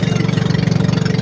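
A motorcycle engine runs steadily during a test, a close, loud low idle with an even, pulsing rhythm throughout and no voices.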